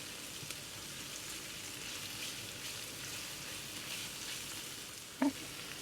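Cumin cooks in a pan, giving a faint, steady hiss of frying with no talk, and a single soft clink near the end.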